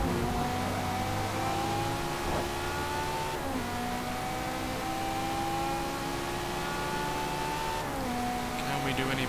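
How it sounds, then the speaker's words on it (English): A Ferrari 458 engine in the racing video game Forza Motorsport 4 revs and pulls through the gears, its rising tone snapping down at each shift, loud and continuous, with engine noise from other cars behind it. "Certainly don't get a engine sounding as good as this in a modern Ferrari."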